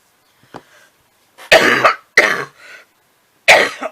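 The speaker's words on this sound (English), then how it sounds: "Oh, my coughing's acting up, so I gotta hurry this up." A person coughs several times in short, harsh bursts, close and loud, with brief silences between them.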